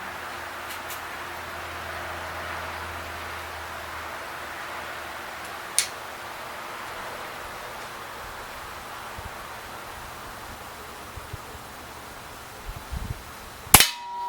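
A Webley Tempest spring-powered pellet pistol fires once near the end, a sharp close crack after a long quiet stretch with faint background hiss.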